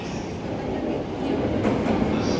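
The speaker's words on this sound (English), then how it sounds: "E231-500 series arriving into platform 15. On the Yamanote line." An E231-500 series train on the Yamanote line pulls into a platform at Shinjuku, a steady rumbling roll of wheels and motors that swells slightly as it draws in, with station ambience around it.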